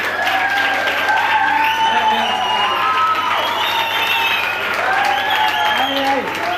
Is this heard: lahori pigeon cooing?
no